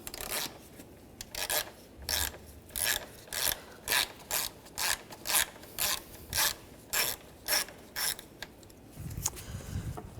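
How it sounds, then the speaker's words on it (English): A ratchet with a T25 socket backs screws out on a Mini Cooper during exhaust manifold work, about a dozen rhythmic rasping clicks in steady strokes, close and fairly quiet, no talking. "these 2 screws right here, use a T25 socket. Take those out."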